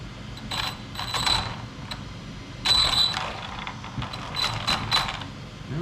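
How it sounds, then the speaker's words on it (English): Steering servo of an ARMA Big Rock RC truck whirring and clicking in short mechanical bursts, with the truck's cooling fans humming steadily underneath, close by. "Steering servo is working."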